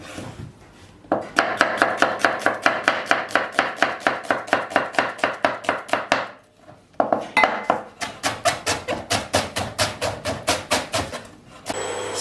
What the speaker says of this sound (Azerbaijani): İndi soğanı da xırda-xırda doğrayıram.